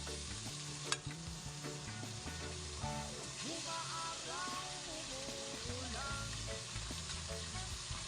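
Ingredients sautéed with oyster sauce in a pan for guisadong pancit bato, a steady sizzle with stirring and scraping running throughout, close and even, with a sharp clink near the start and no talking.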